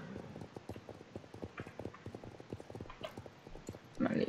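Horse hooves clip-clop in a steady, even rhythm as a horse walks in the Star Stable video game, moderately close and fairly quiet, with a brief louder burst near the end.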